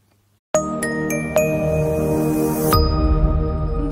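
A notification bell sound effect rings out in a quick series of bright, metallic dings that overlap and leave sustained ringing tones, then a final strike gives way to a lower hum.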